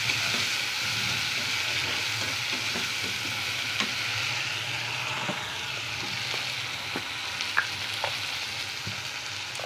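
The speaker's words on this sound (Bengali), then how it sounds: "এই যে তেলের ওপর দিয়ে সব কষাচ্ছি।" Mustard-poppy paste with black cumin and tomato fries in hot oil, a steady dense sizzle running throughout with occasional light scrapes and taps of stirring; no voices.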